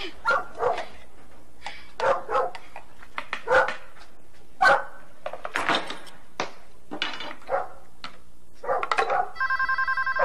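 Dog barking in repeated bursts of loud, close barks spread across the scene, ending with a steady electronic ringing tone that enters near the close.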